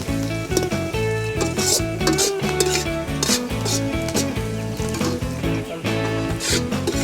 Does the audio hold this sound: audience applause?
no